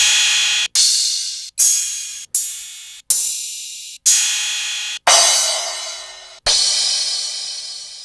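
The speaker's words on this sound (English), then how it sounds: "Let's try searching for a crash." Crash cymbal samples auditioned one after another in a beat-making session: eight bright, hissy crashes in a row, each cut off or decaying before the next, with later hits lasting longer.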